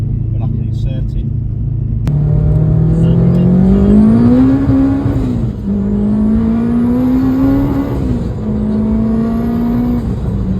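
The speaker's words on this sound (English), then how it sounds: "going to take the car out for a drive" A turbocharged Honda Civic EP3 drives close by, its engine droning and rising through the revs, dropping at each gear change, then climbing again. A voice talks over it at times.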